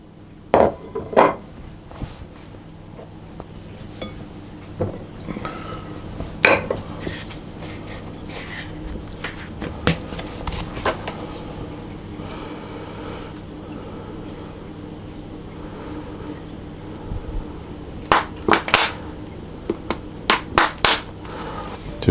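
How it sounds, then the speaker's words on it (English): Butter, sugar and golden syrup are creamed in a bowl, with irregular knocks and clinks of utensil against bowl that come in clusters over a soft background. "we're going to put the butter and the sugar and a tablespoon of golden syrup into a bowl, and then we're going to cream those together"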